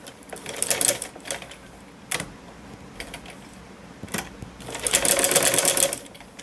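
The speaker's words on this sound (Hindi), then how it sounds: "आप सबसे पहले आसन को स्टिच करेंगे 1/2 इंच का मार्जिन लेते हुए" Sewing machine stitching a salwar seam with a half-inch margin, running in short loud rattling bursts separated by pauses, close up, ending in a longer sustained run.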